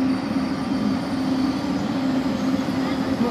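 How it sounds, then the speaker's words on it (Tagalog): Steady rumbling roar of a train rolling past in Italy, with a constant hum and rattling wheels throughout, fairly loud and unbroken. "Ang pagdaan ng mga tren sa Italia."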